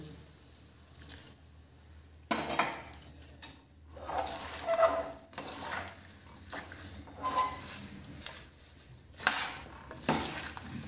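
Mustard oil is poured into amla pickle and stirred through the spices, with intermittent scraping and clinking bursts of a spoon against the container, moderately close and without talk.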